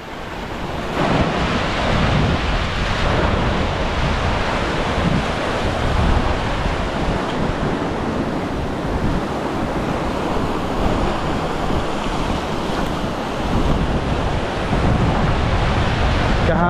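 Ocean waves washing along a seashore with strong wind buffeting the microphone, a loud, continuous surf roar that swells and recedes throughout.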